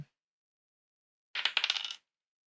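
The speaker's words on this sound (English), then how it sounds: "I will quickly roll a physical die." A physical scatter die tumbles across a tabletop during a solo sci-fi tabletop roleplaying session, a short rattling burst of quick clatters lasting about half a second, close and alone in silence.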